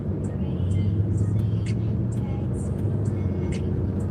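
A car cruises at the speed limit in US traffic, its engine and road noise a steady low drone throughout, with faint higher chirps and squeaks over the top and no talking.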